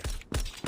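Pistol magazine reload in the mobile shooter game COD Mobile: a quick series of three sharp mechanical clicks and clacks, close and crisp, with no talk.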